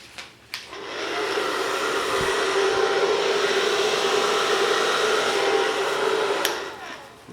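Steady whoosh of air, likely a hair dryer, blown over a turquoise and pink acrylic Dutch pour for about six seconds, starting after a couple of small clicks and cutting off cleanly near the end.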